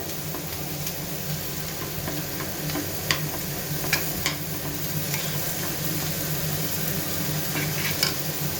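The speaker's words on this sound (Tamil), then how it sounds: "இங்கே மேகி கொதிக்குது." A pan of Maggi instant noodles bubbling at a steady boil, with continuous hissing and scattered small pops and clicks throughout, no voices.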